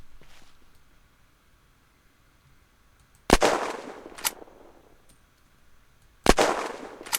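Spitter gun fired in the Unturned video game, two loud sharp gunshots about three seconds apart, each with a brief ringing tail and a faint second crack, with quiet ambient hiss between.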